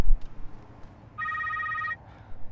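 A phone rings in The Secret World video game during the Meowling mission outside, sounding as a short, bright electronic trill of under a second over a steady ambient game background.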